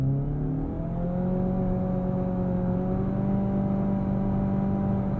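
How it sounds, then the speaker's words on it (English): A 2023 Nissan Altima SR accelerates hard from a standstill with tire spin, its engine note climbing steadily in pitch, loud and close from start to finish. "Tire spin."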